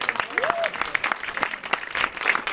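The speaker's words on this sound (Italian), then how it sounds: "Un lungo applauso ha salutato l'inaugurazione" A crowd applauds at the inauguration of the Arti e Mestieri mosaic in Cribari, Casali del Manco, near Cosenza. The clapping is brisk and steady, moderately near, with a short tonal whistle early on.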